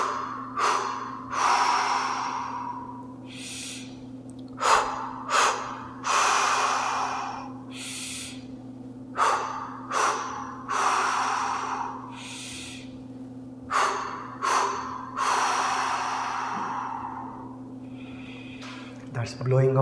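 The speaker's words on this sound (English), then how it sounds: "Take a nice deep breath." A yoga practitioner breathes deeply in guided exercise, with long, audible breaths drawn in and forcefully exhaled in about a dozen rhythmic cycles over a steady low hum, close to the microphone.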